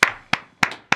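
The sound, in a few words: round of applause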